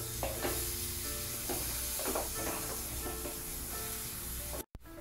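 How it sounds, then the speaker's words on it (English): A spoon scrapes and stirs broccoli rice with tossed paneer in a pan, giving several rhythmic scraping strokes over a steady low sizzle and hiss, close by, ending in a brief cut. "Stir it."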